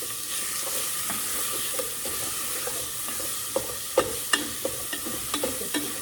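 Ground meat sizzles and crackles in a pan as it browns for a four-ingredient chili, with scattered sharp scraping and chopping clicks from a utensil breaking it up, no talking.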